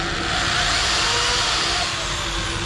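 Power drill boring a hole with an 11/64 bit during a transmission cooler install on a Chevrolet Silverado 1500, a loud steady motor whine with grinding, close and continuous.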